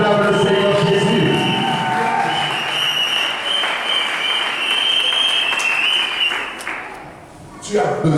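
A church congregation breaks into loud, sustained applause and cheering at a French-language sermon, the clapping swelling and holding before tapering off, then bursting up briefly again at the end.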